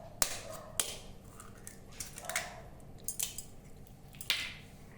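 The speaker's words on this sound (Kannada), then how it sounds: "ಎಗ್ಗೆಲ್ಲ ಕಟ್ ಮಾಡ್ಕೊಳ್ಳೋಣ." A knife cuts through boiled eggs with a series of sharp, close clicks and taps as the blade meets the board. The irregular cuts are spaced out, with soft squishy sounds between them.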